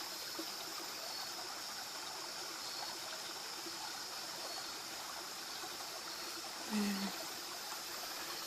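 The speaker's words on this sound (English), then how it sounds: "Maybe I can zoom in a little bit, show you the waterfall" A waterfall in the woods gives a steady, soft rush of falling water that holds at an even level throughout, with a faint brief knock near the end and no voices.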